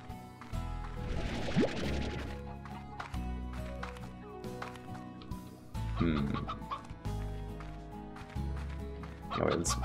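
Chickens in the video game Slime Rancher cluck and squawk over an ongoing musical and ambient game soundscape, with several louder bursts scattered through the stretch.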